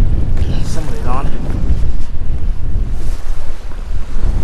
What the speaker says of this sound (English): And we won't get beat up too bad by this wind.